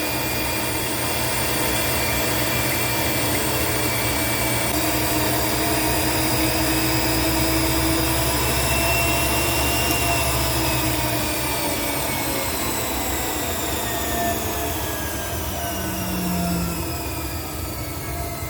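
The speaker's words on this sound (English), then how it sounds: "That's how you grind the tire to, so it's round." Grinder truing a pro-stock tractor pulling tire, a steady loud mechanical whine and rumble with sliding tonal squeals that drift in pitch, continuous for the whole stretch, no talking.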